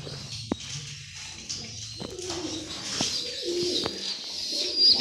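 A pigeon coos softly in an indoor home setting, low rounded calls repeating over a steady background hiss, with a few faint clicks and shuffles nearby.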